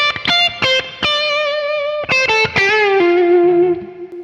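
Electric blues lick with pre-bent notes released downward, a short phrase of sharp picked notes and slurred bends that ends on a long sustained note, played alone with light drive.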